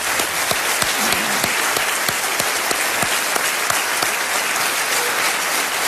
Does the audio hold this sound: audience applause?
yes